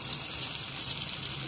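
Rice batter for Chettinadu white paniyaram made from raw rice pours into a paniyaram pan in a brief, steady liquid stream, close and fairly soft.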